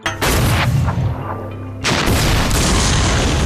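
A gun fires a loaded shell with a sharp, loud blast and a long rolling rumble, then a second heavy boom follows near the end and rings out strongly.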